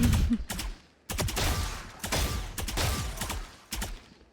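Vandal and Phantom rifle skins firing in Valorant, several loud bursts of automatic gunfire separated by short pauses, close and punchy with no talking.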